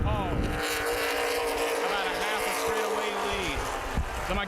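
Stock race cars roar around Columbus Motor Speedway during the Memorial Day 250, a loud sustained engine drone with pitch sweeping as cars pass, under an announcer's voice calling the race.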